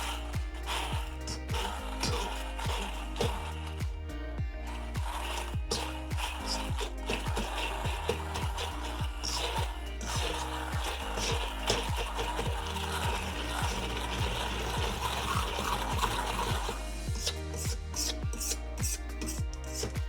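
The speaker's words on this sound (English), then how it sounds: "we're just gonna immersion blend it" An immersion blender purees canned corn into a creamed-corn substitute, making a continuous close grinding, rasping whir with a low motor hum underneath for the whole stretch.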